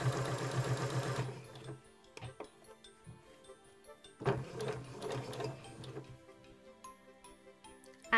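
A Janome DC 3050 sewing machine stitches at speed, a steady dense mechanical whir for just over a second, then stops; a shorter fast burst follows midway, with quiet clicks and handling noise in between.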